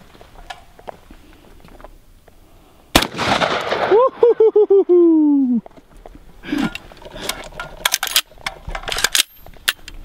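A single sharp shotgun blast of buckshot fired outdoors at a fabric target on a shooting range, followed by a ringing, falling tone and scattered clicks and knocks.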